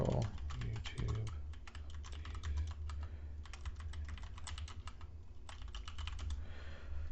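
Rapid keystrokes on a computer keyboard while entering a project name in a game editor workbench, a steady run of close, crisp clicks with short pauses, nobody talking.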